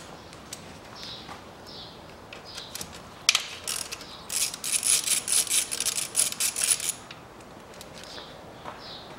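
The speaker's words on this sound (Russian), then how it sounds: "Теперь по периметру откручиваем все болты" Metallic ratcheting clicks come in short bursts as a wrench loosens valve cover bolts and nuts on a 2003 Toyota Harrier, with a sharp clink partway through and a denser run of ratchet strokes afterward, close and moderately quiet.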